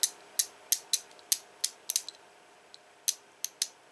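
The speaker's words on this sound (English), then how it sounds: "not a smooth sounding ratchet at all" A ratchet wrench clicks roughly and unevenly, with about a dozen sharp, close-up ticks in irregular bursts and pauses, heard alone.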